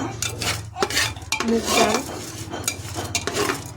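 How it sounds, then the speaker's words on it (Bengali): Moong and pea lentils fry in ghee in a pot while a spoon stirs them, giving repeated metallic scrapes and clanks against the pot over a soft sizzle, close and steady. "ঘি দিয়ে ডালটাকে আমি ভেজে নিচ্ছি।"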